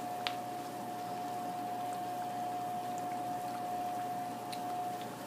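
Cartellate dough, the Pugliese wine cookies, frying in hot oil, with a steady wet sizzle and bubbling that holds at an even level throughout, close up and with no one talking.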